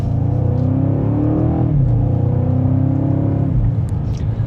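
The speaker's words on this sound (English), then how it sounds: "And we are still in Sport Plus, second gear. Here we go." A 2026 BMW M5 in Sport Plus mode pulls away gently in second gear, the engine hum rising in pitch steadily and then easing off, heard from inside the car without talk.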